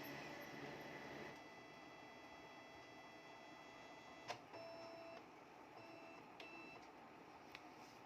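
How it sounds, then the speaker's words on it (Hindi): A Canon MF 4350d printer powers up after an E225 error, with a steady low mechanical whir, a few soft clicks and short electronic beeps, quiet and close. "तो हमने प्रिंटर चालू कर दिया है"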